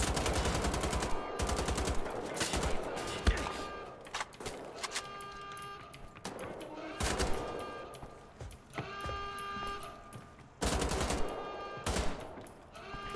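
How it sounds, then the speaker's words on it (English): Rapid bursts of video game gunfire, including machine-gun volleys and single shots, break out repeatedly in loud clusters separated by short gaps, with no talk over them. "Did they just shoot at them?"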